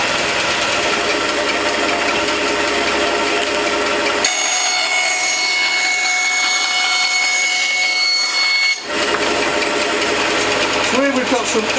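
Axminster AP1854BV bandsaw running on its high-speed setting, a loud steady mechanical whir with a brief change partway through, continuing without pause for the whole stretch.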